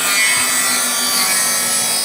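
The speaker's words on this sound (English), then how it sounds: "he's using a circular saw to cut through" A circular saw cuts through a wooden board, giving a steady, loud, close-up rasping whine that holds for about two seconds without a break.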